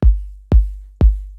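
Three evenly spaced electronic kick drum hits, softened with fades and EQ so the attack is rounded, boom out loud and deep at a steady pulse, each decaying smoothly before the next, with no voices.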